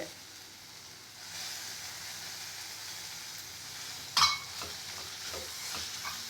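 Ponnaganti greens curry cooking in oil in a pan, a quiet continuous sizzle and hiss with occasional stirring and one brief metallic clink partway through.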